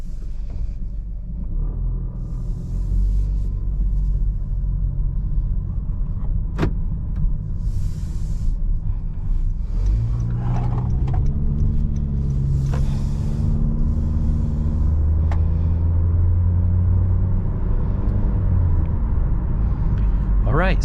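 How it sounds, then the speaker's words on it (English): Interior cabin sound of a 2022 Honda HR-V LX on the road, a steady low engine and road rumble with tire noise, shifting in tone partway through as the car changes speed, and a few faint clicks inside the cabin. "driving this 2022 Honda HR-V LX drives nice and smooth"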